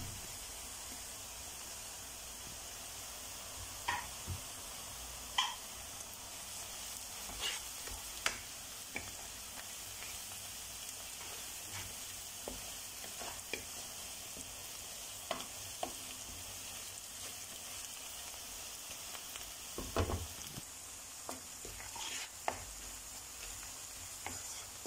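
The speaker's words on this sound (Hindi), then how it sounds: "लहसुन भी इसमें फ्राई हो चुका है, खुशबू आने लग गई है।" Garlic frying in a pan for a potato bhujia gives a quiet, steady sizzle with occasional soft ticks and stirring scrapes, one louder clatter near the end, with nobody speaking.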